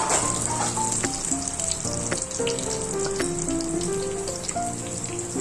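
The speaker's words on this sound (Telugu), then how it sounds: "అవి కొంచెం వేగాక అల్లం ముక్కలు వేయాలి" Ginger pieces fry in a pan for samiya upma with a steady, close crackling sizzle and spitting pops, while faint musical tones play underneath throughout.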